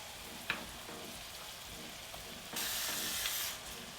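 Ground meat fries for a Bolognese in a pan, giving a steady close sizzle with a few soft stirring clicks, and the hiss swells louder for about a second near the end.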